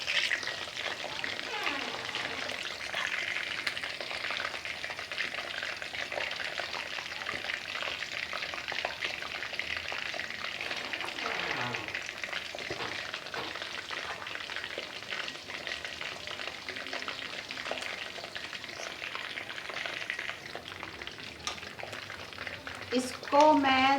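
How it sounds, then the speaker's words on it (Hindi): Chicken pieces frying in hot oil give a continuous bright crackling sizzle, steady and close for the whole stretch, with a voice talking intermittently over it. "मैंने चिकन को ऑयल में डाल दिया है और इसको मैं 10 मिनट के लिए फ्राई करूँगी।"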